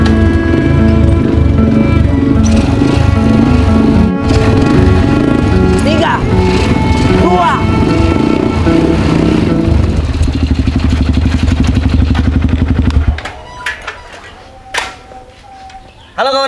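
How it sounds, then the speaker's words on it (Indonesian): A modified motorcycle engine is started, giving a loud, steady engine roar with clattering that runs for most of the stretch before cutting out near the end. "Mesin kalau udah dipermak, jadinya agak sulit ngidupin."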